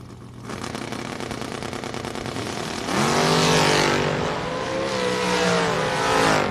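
A drag race car launches down the strip at the Mutt and Jeff Fall Brawl, its engine shifting from a rumbling idle into a loud, sustained roar that rises and holds for several seconds, with no voices heard.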